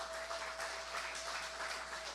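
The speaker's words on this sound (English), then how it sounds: "I would like a round of applause for the foreign-based Trinbagonians" An audience at an outdoor political public meeting in Siparia applauds, a steady wash of clapping at moderate loudness with no talk on top.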